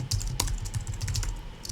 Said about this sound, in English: Just gonna type template.